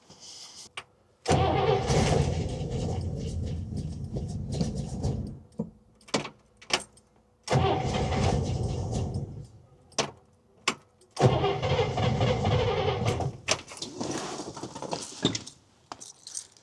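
A 1961 Buick engine cranks over in three long bursts of starter churning, separated by short pauses and sharp clicks, close and fairly loud, with no voices.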